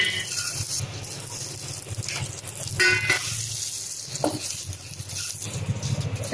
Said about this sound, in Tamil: அந்த மிச்சம் இருக்க நெய்யிலேயே இப்போ நம்ம சேமியாவை ஃப்ரை பண்ணிடலாம்